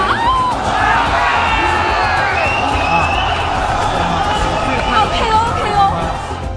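A big crowd cheers, whoops and chatters steadily throughout, welcoming China's team captain Fu Gaofeng at a combat sports event in Tokyo.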